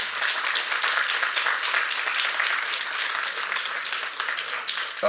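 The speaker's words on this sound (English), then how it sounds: "could we have, first of all, a round of applause for our winning team" An audience at a debate applauds, a dense wash of clapping that holds steady for several seconds, with no talking over it.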